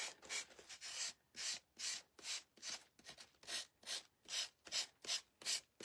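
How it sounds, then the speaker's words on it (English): Rhythmic back-and-forth rubbing of a sanding block on wood, about a dozen even strokes, close and fairly quiet, with no talking. "we're going to take our little sanding block and just go around our edges"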